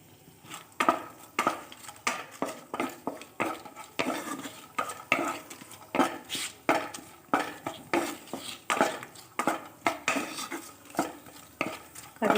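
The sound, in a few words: cashews frying and being stirred in a pan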